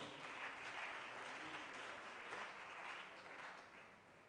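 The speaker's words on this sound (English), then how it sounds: "Can we give a round of applause unto the Lord?" A church congregation applauds in honour of the arrival of the Bishop of Accra Diocese, a steady, dense round of clapping that carries evenly through the whole stretch and eases slightly toward the end.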